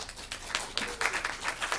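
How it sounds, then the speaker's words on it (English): A round of applause at a team launch event: faint, scattered hand clapping from a small crowd, heard from some distance. "So huge round of applause for everybody."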